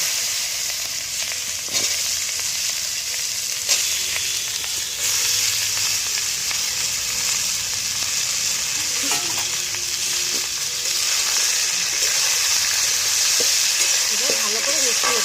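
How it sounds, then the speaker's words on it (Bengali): Khero pieces fry in hot oil with a dried red chilli, giving a loud, steady sizzle close by, with occasional stirring scrapes throughout. "এবার আমি তেলের উপরে খেরোগুলো দিয়ে দেবো।"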